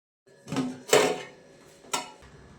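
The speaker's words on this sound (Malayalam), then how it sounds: "ഇനി നമുക്കിതൊന്ന് ഇളക്കി നോക്കാം" A spoon scraping and knocking inside a pot of Kerala-style beef biryani as it is stirred, three separate clattering metallic strokes, close and fairly loud, with quiet between them.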